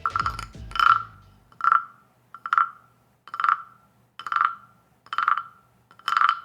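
A wooden frog percussion instrument is scraped to imitate a frog's croak, giving seven or eight evenly spaced raspy ratchet strokes, close and moderately loud, with no talk.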